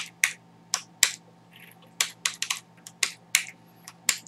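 Close, crisp keystrokes on a computer keyboard while writing HTML in Notepad, arriving in irregular bursts of single clicks and quick clusters with short pauses, no speech.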